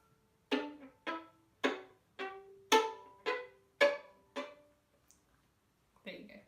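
String instrument scale played with a percussive off-string bowing stroke at the heel, tango style: eight sharp, evenly spaced bowed chops climbing in pitch, each with a quick attack and short ringing decay, close and clear, then a brief scratchy flourish.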